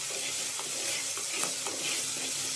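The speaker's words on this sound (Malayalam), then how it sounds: "ഈ ഉപ്പ് കൂടി ചേർത്ത് ഈ ഉള്ളിയെ ഒന്ന്" Chopped onions with salt sizzle steadily in a hot pan while a spoon stirs them, making a constant close frying hiss dotted with soft scraping strokes, with no talk.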